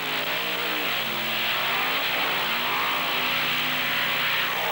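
Supercharged, alcohol-fuelled engines of 10,000-pound monster trucks staged at a beach event roar loudly and continuously, with rising and falling revs layered over a dense, unbroken engine din.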